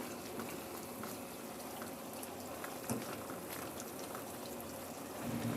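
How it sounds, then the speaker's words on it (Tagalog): Liquid seasoning pours into a simmering vegetable soup, a steady bubbling and splashing of liquid with a continuous watery hiss throughout, close and moderately loud. "Maglagay na rin ako ng liquid seasoning."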